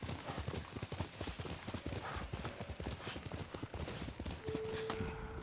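In the video game Ghost of Tsushima, a horse's hooves clip-clop in a quick, steady, even rhythm, close and continuous, and a brief tone sounds near the end.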